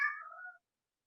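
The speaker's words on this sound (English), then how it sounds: "that's my cat" A pet cat gives a single short, clear meow close by, heard alone and trailing off into silence after about half a second.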